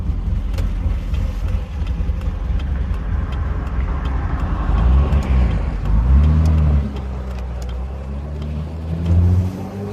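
An old BMW E30 325i engine rumbles and revs with a rough, raspy tone, rising and swelling loudly before settling back into a steady idle growl.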